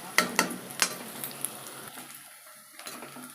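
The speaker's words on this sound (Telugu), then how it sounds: "ఆనియన్స్ బాగా వేగేంత వరకు కలుపుకొని" Onions frying in a pan as they are stirred, with several sharp spatula knocks and scrapes early on over a soft sizzle that grows quieter toward the end.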